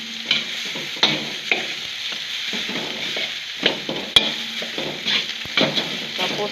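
A spatula stirs cooked rice frying in a pan, steady sizzling under repeated scraping and clinking strokes at an irregular rhythm, close and fairly loud with no talking.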